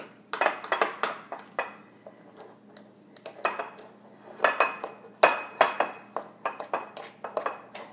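A spoon clinks and scrapes against a bowl while maple syrup and cane sugar are mixed into a cinnamon-roll glaze, in irregular bursts of close, bright taps.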